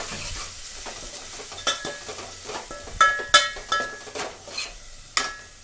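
Washed onions are added to vegetables cooking in a pan and stirred, bringing a steady sizzle broken by sharp spatula scrapes and metallic clinks against the pan.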